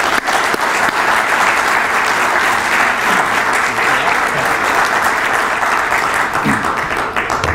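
Steady, loud applause from a lecture audience welcoming speaker Roger Kimball, a continuous dense wash of clapping with no break.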